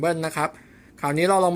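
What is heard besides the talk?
No distinct noise like a dog, phone or traffic.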